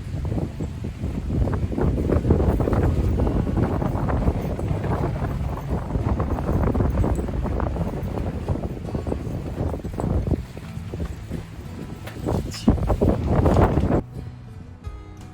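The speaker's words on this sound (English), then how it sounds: "Then the 35-mile-per-hour winds came and collapsing the front of the ARB." Strong campsite wind around 35 miles per hour, loud continuous buffeting and rushing close to the microphone for most of the time, easing briefly near the end, no talk.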